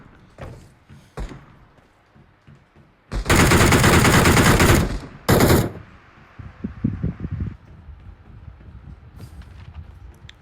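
Gunfire rings out in the PUBG battle royale game. After quiet, scattered taps, a loud sustained automatic burst lasts about two seconds, followed by a short second burst, then softer clatter.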